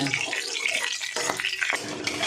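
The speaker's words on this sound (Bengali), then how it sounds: "লবঙ্গ আর একটু গোটা জিরে। ফোড়ন থেকে যতক্ষণ সুন্দর সেন্ট না বেরোয় ততক্ষণ আমি এটাকে ভাজবো।" Cloves and whole cumin fry in hot oil as a tempering, giving a bright, dense sizzle with light utensil clinks over a couple of seconds.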